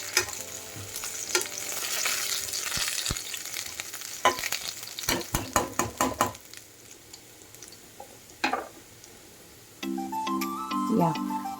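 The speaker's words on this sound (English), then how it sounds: "So let me add some garlic and I'll saute them nicely till they turn little brown." Garlic sautéing in hot oil in a pan for a tomato and basil arrabbiata pasta sauce, with a steady sizzle, a few clattering stirring knocks near the middle and a clink of utensils toward the end.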